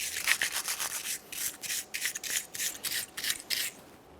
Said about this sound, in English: I'm going to go ahead and make sure I clean off any of the rust or debris that might be in this area.